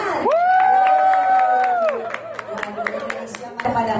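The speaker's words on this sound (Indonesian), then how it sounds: "Silakan, boleh tepuk tangan." Wedding guests clap and cheer in a hall during the ceremony for Laudya Cynthia Bella and Engku Emran in Malaysia, a lively burst beneath a strong sung or spoken voice, with scattered claps continuing as the voice fades.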